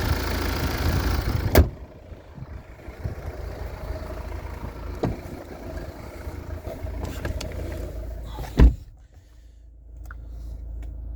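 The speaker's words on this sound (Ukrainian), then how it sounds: "Автомобіль працює просто шикарно" A 2021 Volvo V60 Cross Country 2.0-litre D4 diesel engine idles steadily at close range, a low constant rumble broken by two sharp clicks, one early and one near the end.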